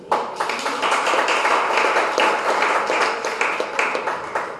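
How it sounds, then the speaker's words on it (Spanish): Church congregation clapping for the Lord, a steady loud burst of many hands clapping together, sustained and close, no talk. "Dele palmas por Señor"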